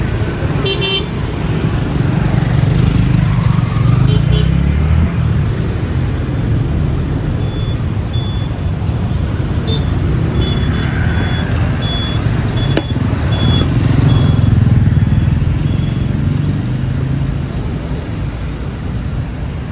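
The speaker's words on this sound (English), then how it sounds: "Look at all the motorcycles." Dense motorcycle street traffic in Ho Chi Minh City, a constant loud wash of buzzing small engines passing close by, with frequent horn toots and beeps scattered through it.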